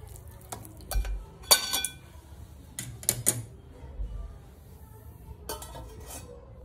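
A metal lid is set onto a cooking pot of sheera made with ghee, giving a few sharp clinks and clatters of metal on metal among quieter kitchen handling.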